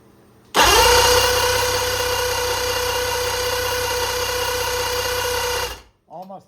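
A boat outboard motor cranks and starts at once, then runs loudly at a steady pitch for about five seconds before cutting off, followed by a brief voice.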